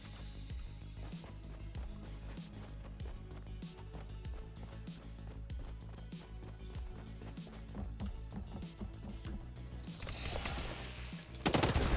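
Assault rifle fire rattles in the video game HAWKED, with rapid repeated bursts of close, sharp shots carrying on throughout and a louder crack of gunfire at the very end.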